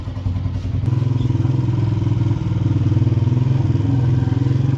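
A motorcycle engine runs with a steady throbbing putter, close and loud, while riding along a road, with rushing wind noise over it.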